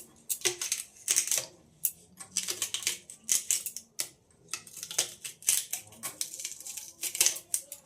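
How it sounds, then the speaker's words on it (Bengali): Onion flower stalks being chopped into small pieces with a knife on a board, a quick run of crisp, irregular cutting clicks in short bursts, close and clear, with no talk. "পেঁয়াজ কলিগুলোকে প্রথমে কেটে নেব, অল্প করে নিয়ে এই ছোট ছোট টুকরো কেটে নেব।"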